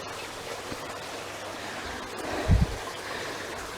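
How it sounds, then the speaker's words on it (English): Running water of a damp, slippery forest stream makes a steady, soft rushing wash throughout, with wind-like hiss and a brief low thump near the middle. "lots of running water"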